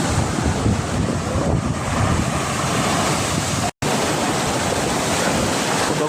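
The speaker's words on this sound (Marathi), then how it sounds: "तुम्ही, बघू शकता समुद्र किती खवळलेला आहे" A rough, swollen sea crashes and surges near a coastal fishing village, its water pouring in toward houses, a dense roaring wash of surf with heavy wind buffeting the microphone and a brief dropout midway.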